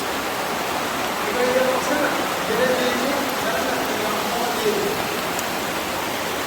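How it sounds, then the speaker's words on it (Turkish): Water drips and flows steadily inside Kaklık Cave in Denizli, a continuous, fairly loud wash of splashing noise with faint voices underneath. "Su sesi, huzur sesi diyoruz."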